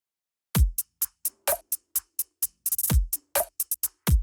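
SousaFX wobble effect with its subdivision changed, producing a sequence of sharp pulsing hits: deep booming bass thumps separated by quicker bright clicks in a driving rhythm, loud and upfront with no voices.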